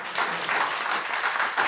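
Audience at a disability issues community forum claps in a brief, steady burst of applause, dense and even, filling the room with no voices over it.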